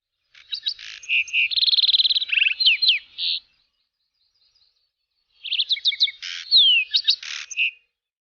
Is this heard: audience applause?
no